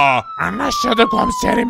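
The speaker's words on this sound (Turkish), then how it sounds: "şu siren sesini kapatsana" A police siren in the Minecraft video game wails steadily and loudly, one long rising-and-falling tone running under continuous talk across the whole stretch.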